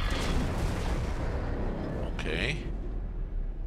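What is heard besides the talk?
explosions in X4 Foundations video game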